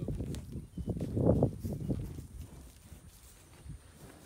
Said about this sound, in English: These cows follow us everywhere we go.